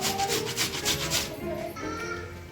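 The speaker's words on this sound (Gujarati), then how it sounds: "એને પણ ખમણી નાખશું આપણે આ રીતે ગાજર બટેટું કાંદો અને કોબી આપણે ચારેયને ખમણીને મિક્સ કરી નાખશું" Carrot, potato, onion and cabbage grated by hand on a grater, steady close rasping strokes in a fast rhythm that ease into softer scraping.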